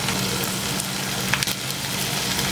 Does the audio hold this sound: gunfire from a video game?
no